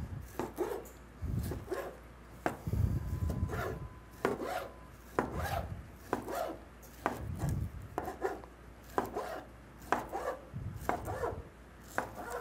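A knife chops vegetables on a bias on a cutting board for a rustic sheet pan dinner, with a steady series of crisp, close cuts in irregular clusters, fairly quiet, with no talk.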